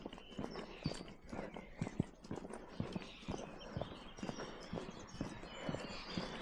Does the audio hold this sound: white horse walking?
yes